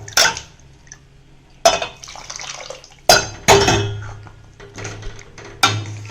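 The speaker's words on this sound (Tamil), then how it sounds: "கொஞ்சோண்டு அந்த பாத்திரத்துக்கு நல்லா குத்தி அலம்பி இதில் சேர்த்துக்கலாம்" Water sloshes around a metal cooking pot as it is rinsed out, several distinct splashing bursts with clanks and drips in between, close and fairly loud.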